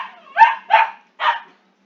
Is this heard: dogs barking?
yes